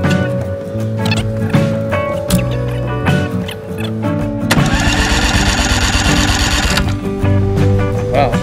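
An outboard boat motor on an Arima Sea Chaser cranks over during a compression test, giving a steady, close, rhythmic churning drone that holds loud and even across the whole stretch.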